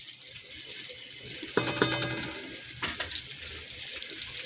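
Minced meat (qeema) lightly fries in a pan for a Shimla mirch qeema dish, giving a steady bright sizzle throughout with a brief tonal hum in the middle.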